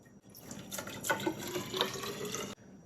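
Distilled water pours into the coolant system of an older Volkswagen Golf or Jetta, a steady close gurgling stream for a couple of seconds that stops abruptly.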